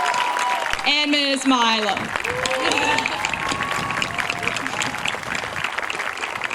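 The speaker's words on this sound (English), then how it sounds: "please give a round of applause to Miss Fulchetti" A graduation audience applauding in a high school ceremony setting, a dense steady wash of clapping that runs the whole time beneath a voice speaking briefly at the start, fairly loud and filling the hall.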